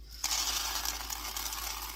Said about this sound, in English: I'm watching for rocks as I pour these